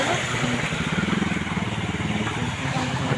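A two-wheeler rides through knee-deep floodwater, its small engine putting out a close, pulsing mid-pitched drone over a constant background wash.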